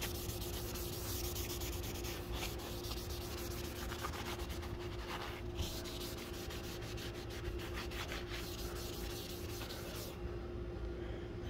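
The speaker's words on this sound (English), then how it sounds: "Act like we're buffing it, see if it shines or see what it does." A rag buffs a wood finish on a live edge floating shelf in a woodshop, giving a continuous, soft, close rubbing hiss that barely changes for several seconds.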